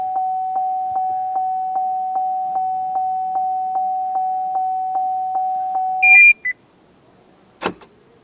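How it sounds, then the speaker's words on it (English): A 2007-2014 Chevy Silverado 2500HD chimes steadily during keyless entry remote programming, about sixteen evenly spaced tones. The door locks then cycle with a loud mechanical clunk and a short beep, followed by one more sharp click. "the door lock cycled and it beeped"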